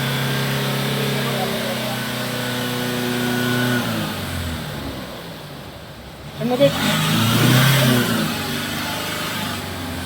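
A Honda Amaze engine held at a steady rev during catalytic converter cleaning in a Mumbai workshop, droning with harmonic hum, dipping briefly then surging back, with someone talking over it.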